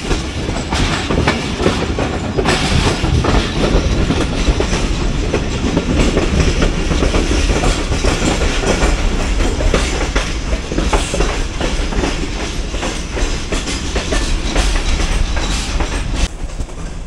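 A Shalimar Express passenger train runs over the rails into Rohri junction, with a loud, continuous rumble and steady clickety-clack of wheels over joints throughout, with no talk.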